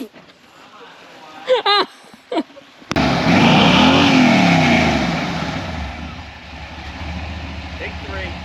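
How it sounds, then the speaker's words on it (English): A shop truck's engine roars up hard and stays loud after a brief stretch of talk, then settles into a steady, slightly fading rumble as it strains through a burnout attempt. "We gotta at least attempt to burn out before we go race car tires."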